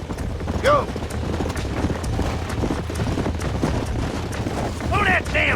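Horse hooves clip-clop in the Red Dead Redemption video game, a steady patter of steps running under ambient game noise, with a couple of brief high whinny-like calls and a voice talking over it.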